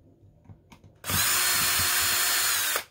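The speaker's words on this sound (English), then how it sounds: "I'm going to have to drill that hole out." A power drill whirs loudly and steadily for nearly two seconds after a few soft clicks, drilling out a hole in a mini keg speaker build, then stops abruptly.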